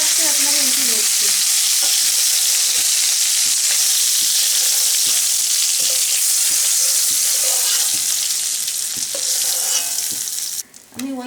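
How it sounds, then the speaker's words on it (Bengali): Golda prawns sizzle loudly in hot oil in a constant crackling hiss, with light stirring taps and a brief break near the end as they are lifted out. "এই মাছগুলো ভাজা হয়ে আসছে, এখন আমি উঠিয়ে নিচ্ছি"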